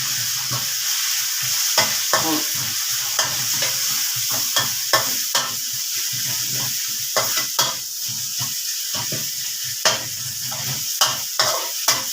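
Garlic and bird's eye chilies stir-frying in a hot pan for a Thai eggplant and pork neck dish, a continuous sizzle with repeated spatula scrapes and taps close up.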